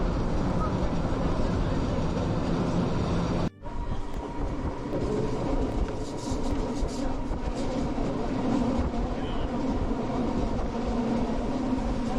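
A train at a station platform in the Swiss Alps near Interlaken and Lauterbrunnen: a steady, loud rumble of rail cars and wheels, broken by a brief dip in the noise after about three seconds before the rolling sound resumes.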